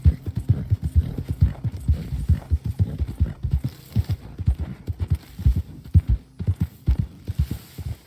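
Rhythmic horse hooves in a video game clop along at a quick, steady gallop, fairly close, with a faint background hum.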